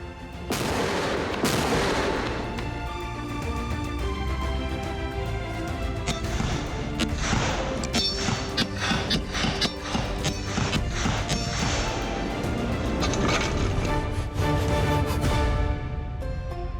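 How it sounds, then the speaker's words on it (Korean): Anti-materiel sniper rifle firing through a wall at a military training range, several loud sharp reports with echoing tails over continuous background noise. "오늘은 대물 저격총이 벽을 뚫고 표적을 맞출 수 있는지에 대한 사격을 실시 중입니다."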